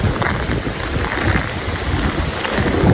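Heavy rain pouring down during a winter storm, pelting a road with dense, loud, continuous hiss and low rumble, no one speaking.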